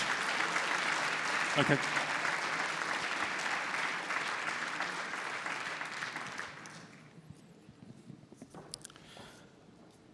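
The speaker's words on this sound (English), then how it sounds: "a round of applause for all of our national winners and our winners on stage" Sustained audience applause at the European Athletics Golden Tracks Award 2015 ceremony for the national and on-stage winners, dense and loud for about seven seconds before thinning out, with a brief spoken word near the end.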